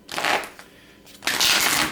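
A deck of playing cards is shuffled in two quick riffling bursts with a short pause between, close and fairly loud, with no talking.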